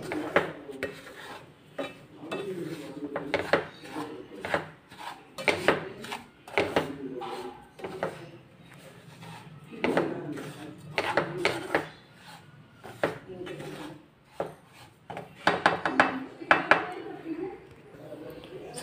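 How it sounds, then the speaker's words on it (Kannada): Rava semolina roasting in ghee in a pan for a sweet halwa, with a spoon or spatula scraping and stirring in repeated bursts of clinks and scrapes, close and fairly quiet, a voice speaking at times. "ಸೊ ಫಸ್ಟ್ ಇದನ್ನು ನಾವು ಈ ಥರ ಹುರ್ಕೊಳ್ಳೋಣ ರವೆ"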